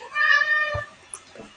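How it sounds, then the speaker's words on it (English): Two house cats meow nearby, one long drawn-out meow followed by a shorter, fainter cry, heard alone in a quiet room. "Sorry about our cats."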